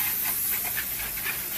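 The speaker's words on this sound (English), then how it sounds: "Shake it up, and be sure to watch you don't spray it into any electronic areas." A can of engine degreaser sprays onto a car engine, a steady close hiss running unbroken through the whole short moment with no voices.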